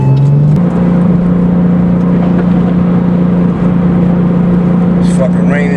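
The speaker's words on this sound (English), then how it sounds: "I know you can hear that turbo engine roaring." A Porsche 911 Turbo engine drones loudly and steadily from inside the car on a rainy drive, with a constant low hum that barely changes.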